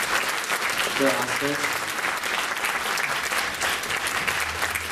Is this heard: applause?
yes